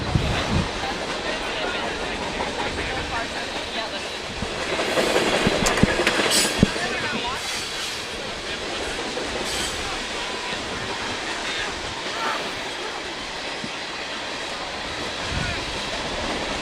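A train rolls past near a soccer field with a continuous clickety rumble and wash of noise lasting through the stretch, under an announcer's play-by-play commentary and crowd ambience.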